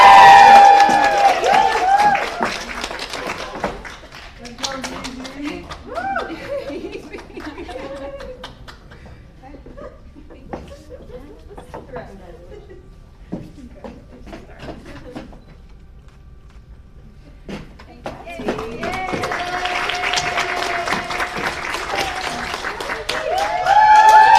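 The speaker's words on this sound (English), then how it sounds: "Let's give our graduates another round of applause." Audience applause for graduates at a December 2021 occupational therapy hooding ceremony, with loud clapping and cheering at the start and again near the end, and a quieter stretch with scattered sounds and murmuring between the two swells.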